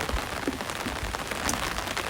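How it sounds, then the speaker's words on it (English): Steady rain falling outdoors in a garden with fruit trees, a continuous soft patter of drops on surfaces with no voices. "it's raining and it's wet"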